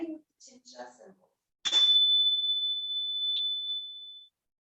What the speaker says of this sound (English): beginning with energy chimes and ending with the Chincha symbol